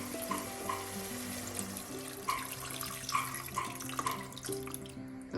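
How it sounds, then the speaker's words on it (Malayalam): Hot water poured from a glass into a simmering Kerala Aavoli fish curry, a steady pouring and bubbling wash with faint sizzle and a few clinks, moderately quiet and without talk. "ഈ സമയം നമുക്ക് 1 ഗ്ലാസ് ചൂടുവെള്ളം ചേർക്കാം."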